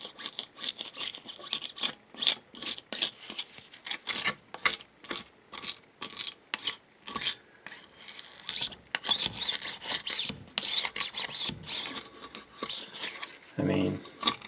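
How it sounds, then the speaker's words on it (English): Lifted clear lacquer is scraped off a Mercedes W140 S-Class wheel with a plastic scraper, making a rapid series of short, crisp scratching strokes close by, broken by brief pauses, with a voice speaking in places. "I'm going to be using a plastic scraper, and I can see that the clear lacquer is lifted up already."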